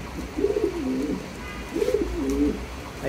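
Large show king pigeons at a farm coo twice in close succession, each a soft, near, rolling call over a quiet background hum.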